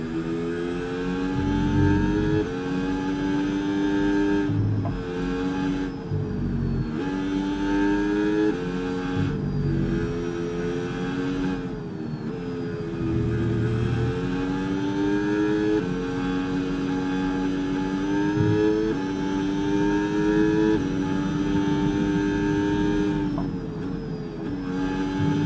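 Formula 1 race car engine at the Japan race in F1 26, a loud sustained whine rising and falling through gear changes and throttle lifts, continuous throughout with brief dips between corners.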